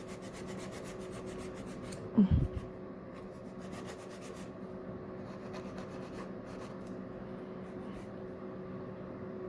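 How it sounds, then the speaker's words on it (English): An acrylic nail is filed with a hand nail file, making faint, steady rasping strokes over a constant background hum, with one short knock near the start. "Okay, so file."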